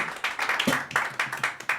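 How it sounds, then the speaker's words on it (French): An audience claps for a live show broadcast from the snow, a brisk run of sharp, fairly close hand claps over a couple of seconds with a brief voice cutting in partway. "Applaudissez, bravo, bien joué."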